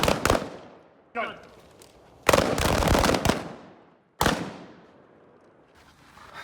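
Carbine gunshots during shooting training, several loud sharp cracks in uneven bursts with ringing decay and echoes, one stretch of rapid overlapping shots, close and powerful.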